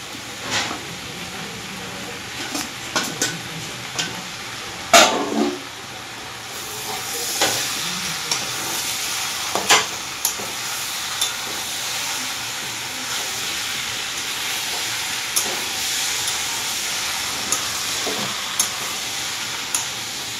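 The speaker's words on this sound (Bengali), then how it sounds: "এটা আগে একটুখানি কষিয়ে নিই। 5-6 মিনিট কিছুটা কষিয়ে নিলাম।" Jackfruit curry with fried potatoes being sautéed in a pan, a steady broadband sizzle running throughout with occasional sharp spoon scrapes and clanks, moderately loud and close, no talking.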